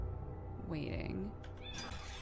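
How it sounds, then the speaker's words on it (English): A cat meows in the puzzle video game Timelie, a clear rising and falling call of about half a second, with a voice nearby and a few other brief game sounds around it. "Meow."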